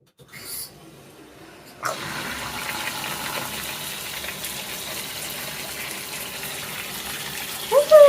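Water rushing from a newly installed showerhead, a steady broadband spray that starts after a brief quiet moment and runs continuously, close by, with a short burst of sound near the end.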